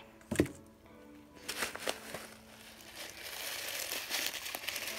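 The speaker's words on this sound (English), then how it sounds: "let's just cut it. Snip it away." Scissors cut open a plastic slime package close up, with a sharp snip followed by crinkling and rustling of the packaging.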